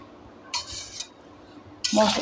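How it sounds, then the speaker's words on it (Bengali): Mango pickle pieces are stirred in oil with a metal spoon, giving a couple of short clinks and scrapes against the pot before a louder scraping clatter at the end. "আমি এগুলো ভালো করে নেড়ে নিচ্ছি।"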